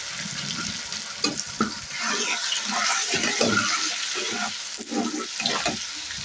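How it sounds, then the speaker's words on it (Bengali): Spiced water from a small bowl poured into a hot pan of tomato and spice paste for a Pabda fish curry, giving a steady close sizzle and bubbling hiss with light stirring scrapes throughout. "এবার এই মশলার মধ্যে যে মশলা বাটিতে যে জলটা আমি করেছিলাম সেই জলটা কিন্তু দিয়ে দিচ্ছি"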